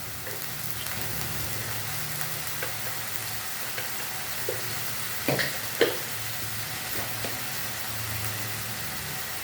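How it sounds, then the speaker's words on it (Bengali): Spice paste with salt fries in a pan for a fish curry, giving a steady low sizzle with faint stirring scrapes and a couple of brief clatters midway. "এবার দেবো এর মধ্যে একটু নুন দিয়ে মশলাটাকে ভালো করে কষাবো।"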